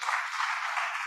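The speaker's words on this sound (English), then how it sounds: "let's have a big round of applause for them again" Audience applause at a plenary session of the ICSE 2022 conference, heard as a steady, even wash of many hands clapping at moderate volume, with no voices over it.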